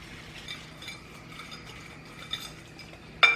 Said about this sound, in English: we will give this a whisk just to incorporate everything